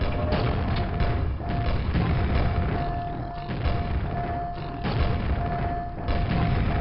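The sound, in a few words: gunfire shooting fiends in the video game Quake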